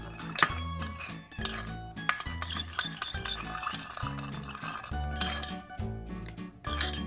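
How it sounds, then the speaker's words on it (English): A spoon clinking against a bowl while stirring a white pepper sauce, bright repeated taps and scrapes in an irregular rhythm, close and fairly quiet. "Give it a quick stir and then just set it aside."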